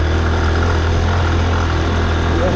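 Vehicle engine laboring steadily in first gear up a steep hill road, a constant loud drone with a low rumble, close and unbroken, no voices.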